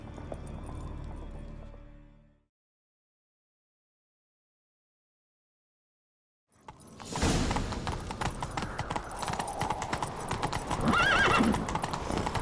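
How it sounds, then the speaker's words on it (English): Loud, dense clattering of a horse galloping at speed in the video game The Witcher 3: Wild Hunt, after a couple of seconds of silence, with a brief whinny partway through. "Grab a horse, we'll chase him down."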